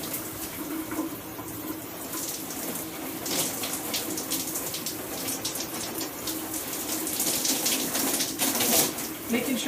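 Tap water runs steadily as hair is rinsed under it, a broad continuous hiss and splash that holds at moderate loudness throughout, with no talking over it.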